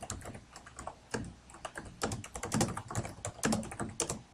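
Computer keyboard typing on a Facebook post page, a steady run of quick, close key clicks with uneven rhythm and a few louder taps, no voices.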